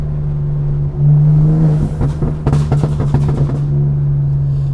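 A 700 hp BMW G80 M3 Competition holds a steady exhaust drone, then a quick cluster of sharp crackling pops erupts near the middle before the drone settles again, with no talk.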